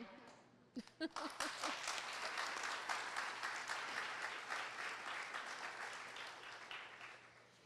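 An audience bursts into applause after an emotional personal testimony at a talk on gaming and gambling addiction, a few first claps swelling quickly into a full, even round of clapping that tapers slightly toward the end.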